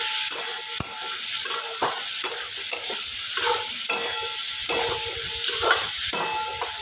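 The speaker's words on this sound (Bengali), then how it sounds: "এবার খুব ভালোভাবে নাড়াচাড়া করে নেব," Fish and cauliflower curry with spices being stirred in a pan, a spatula scraping and clacking in irregular strokes over a continuous bright sizzle, close and fairly loud, no voices.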